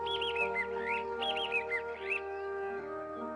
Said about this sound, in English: And the nightingale began to sing.